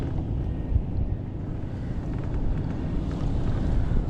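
Strong wind roars across the microphone on an open boat while fishing, a steady low rumble and buffeting that fill the whole stretch with no talking.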